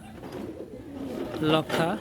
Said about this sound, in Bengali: দোয়া করবেন আমার এই লফটের কবুতরগুলোর জন্য।